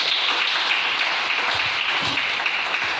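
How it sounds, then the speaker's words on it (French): A church congregation applauds the Lord during a French-language service, with steady, dense clapping that fills the room at an even level for the whole stretch and no voices standing out. "Est-ce qu'on peut acclamer le Seigneur?"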